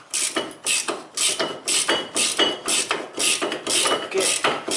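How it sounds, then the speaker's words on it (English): A ratchet wrench clicks in quick repeated strokes, about a dozen evenly spaced bursts, while loosening brake bolts on a Toyota Corolla, close and clear with no talking. "when these bolts are loosened"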